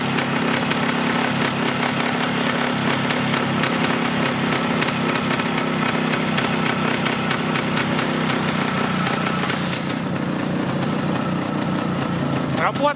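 A Tula motorcycle engine fitted with a Chinese carburetor running, a loud, steady buzzing idle with a rapid regular pulse, close by, ending with a brief rev.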